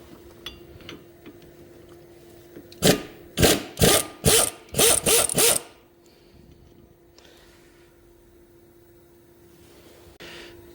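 A 12 mm wrench works bolts out of a Fiat front brake hub: a quick run of about six sharp, close metallic bursts, then near quiet with one last short rasp.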